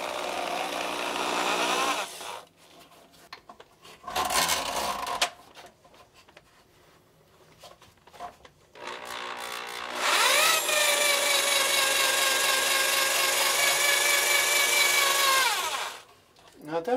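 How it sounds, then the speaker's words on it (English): A Black & Decker power drain cleaner whirs as its cable is fed into a clogged drain, running in steady motor stretches, the longest near the end, separated by pauses and quieter handling. "When you feel resistance, you let the rotation of the cable actually work its way through the clog or the obstruction."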